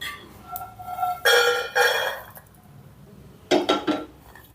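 Fried peanuts tipped from a pan onto a separate plate while cooking stuffed brinjal masala curry, giving two bursts of rattling, clattering nuts against metal and crockery with quiet gaps between.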